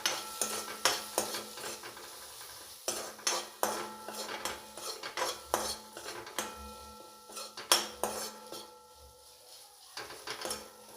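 Turmeric, coriander-cumin powder and red chilli stirred into a hot tempering in a pan for leftover masala khichdi: repeated metal spoon clinks and scrapes against the pan over a faint sizzle, close and uneven in rhythm, no voices.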